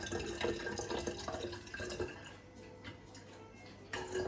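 Water trickling from the tap of an Ecosoft drinking water filter, a steady thin flow with small drips and ticks, fairly quiet and close, with faint background noise.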